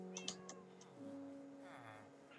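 Soft, high meows from an ocelot in the Minecraft video game, a few short chirpy calls followed by a longer drawn-out one, faint and set against a quiet background hum.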